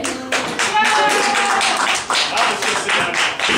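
A live comedy audience bursts into loud, close, continuous clapping, a dense crackling wash that swells and dips slightly for a few seconds.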